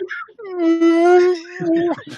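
A man imitates whale song inside an old church, one long sustained moaning tone that rises and holds with rich harmonics, then dips into a second lower call, loud and close with a reverberant tail.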